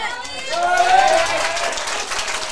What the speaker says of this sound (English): Walter gets a hero's reception from the crowd